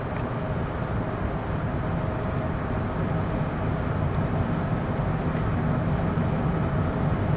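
Propeller or jet aircraft engine drones steadily in Microsoft Flight Simulator during a flight into Cyclone Freddy, a broad continuous roar holding constant loudness throughout with no voices.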